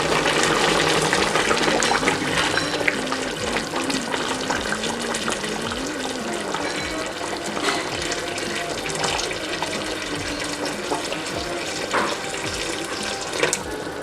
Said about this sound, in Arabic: عندي شويه ديال الماء سخون غنضيفو